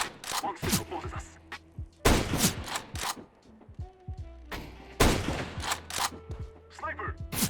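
Gunfire in a competitive shooter video game, with a few sharp broadband shot bursts spaced a couple of seconds apart, loud and close, over game ambience with brief tones.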